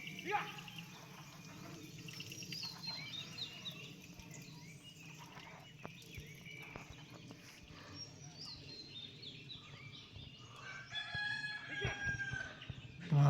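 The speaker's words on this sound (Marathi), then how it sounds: "असं कोंबड्याच्या आरवण्याचा आवाज" A rooster crows in the rural morning in a village near Mahabaleshwar, several calls over faint bird and insect sounds, with people talking quietly in the background.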